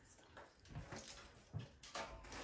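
Puppies whimper softly in a home kitchen, with faint, intermittent high whines and small yips coming in short bursts a few times, quiet and close.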